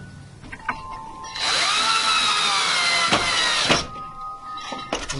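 Power drill drives a screw into a wooden bird feeder house in one steady burst of about two and a half seconds, close and loud, with a whine that dips under load, followed by small knocks and handling sounds.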